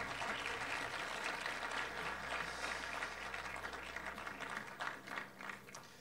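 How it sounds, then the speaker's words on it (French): Crowd at a film awards ceremony applauding a speaker, steady clapping at moderate level that begins to thin out toward the end. "On peut l'applaudir encore,"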